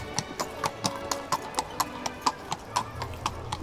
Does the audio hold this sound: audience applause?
no